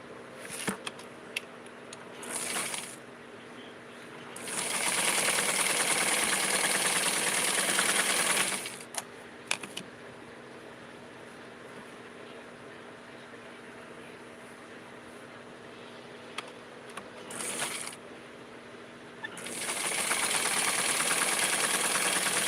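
A sewing machine stitches a hem on a Simplicity 4422 pattern garment, running in steady motorized bursts: a short burst near the start, a long run of several seconds, then two more, with quiet pauses and small clicks between them.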